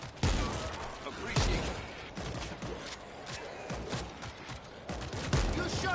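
Rapid bursts of gunfire rattle almost without pause in the zombie shooter World War Z, dense and fairly loud, with players' voices talking over the shooting.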